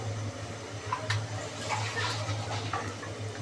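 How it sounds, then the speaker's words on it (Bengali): A small amount of water poured into a pot of tehari with rice, a continuous splashing trickle with soft bubbling gurgles, close and moderately loud, no talking. "হালকা একটু পানি দিলাম।"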